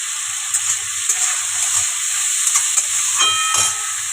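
Fried potatoes in a pan as grated ginger and tomato go in, a steady close hiss of sizzling oil with faint stirring clicks and a low intermittent hum underneath.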